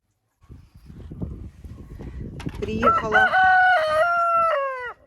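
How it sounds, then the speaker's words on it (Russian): Inside a chicken coop, hens cluck and shuffle in a busy, low chatter before a rooster breaks in with a loud, drawn-out crow that dominates the close of the clip. "приехала я в курятник."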